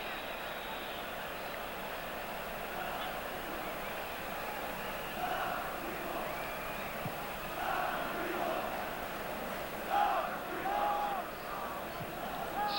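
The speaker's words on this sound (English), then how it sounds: "derisive shouts from the crowd as Hatzibegic's free kick goes way over Shilton's crossbar" Crowd at an international football match between Yugoslavia and England rising in derisive shouts after a free kick sails over the crossbar, a distant stadium roar swelling in waves under steady commentary.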